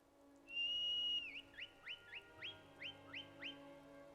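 A long steady whistle followed by a series of short rising whistle chirps in an even rhythm, clear over a low background hum; a horse whistle in the video game Skyrim.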